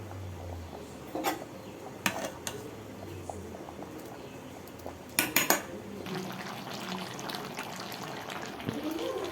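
Country chicken sautés with spice paste in a pan over high heat, a steady close sizzle broken by a few sharp clanks of a spoon against the pan.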